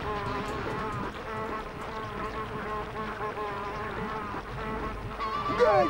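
A bee in Spyro Enter the Dragonfly gives off a steady, continuous buzz with a droning hum, close and even in level throughout, rising slightly at the end.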